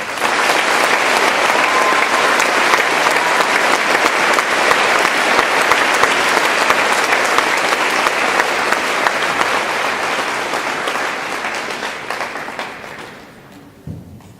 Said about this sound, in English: Can we please get another round of applause?